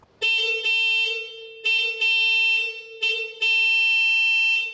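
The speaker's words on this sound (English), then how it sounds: "you would use the softer horn in town to just sort of beep" The softer town horn of a Citroen DS sounds in a series of short and longer beeps with a thin, bright tone, loud and close, with no talking.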